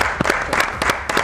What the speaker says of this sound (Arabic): صفقوا يا جماعه.